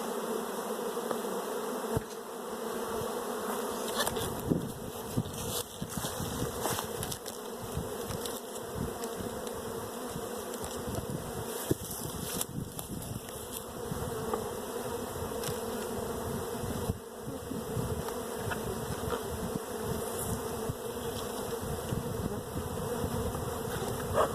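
Honey bees swarm around an open hive during a brood nest inspection, a continuous buzzing hum, fairly close and even, with occasional clicks and knocks of hive equipment being handled.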